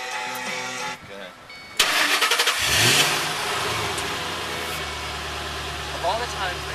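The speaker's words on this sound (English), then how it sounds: "Rev that." A 2008 Ford Mustang Shelby GT500 engine cranks and fires up close by, then revs loudly several times before settling into a throaty idle, with people talking over it.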